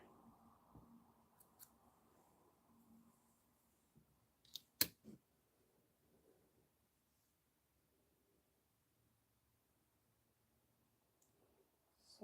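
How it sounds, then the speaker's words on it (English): Scissors snip through embroidery thread in a quiet room while someone stitches. A couple of crisp, sharp cuts land close together midway, with faint scattered clicks around them. "I need to snip this bit of thread because there's a little knot on the end."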